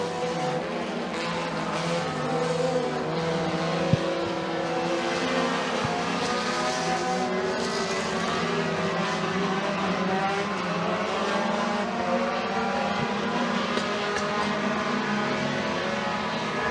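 Mini stock race cars at McKean County Raceway roar down the front straightaway off turn 4 in an A-main feature, a dense, continuous engine drone with layered pitches from several cars at steady loudness.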